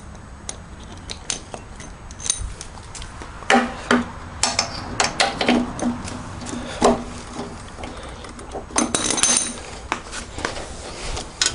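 Metal tools clink and rattle in irregular bursts as a spark plug spanner is fetched during a Briggs & Stratton mower repair, with close-up knocks and scrapes against faint background noise.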